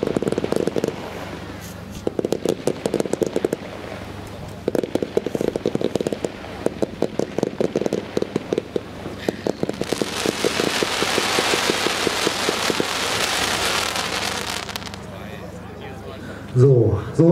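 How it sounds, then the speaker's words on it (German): A Master of Light Roman candle Z-battery at a fireworks preview event fires a long series of sharp shots in bursts, then builds into a dense crackling stretch before fading; a voice talks over it. "einer römischen Lichter Z-Batterie"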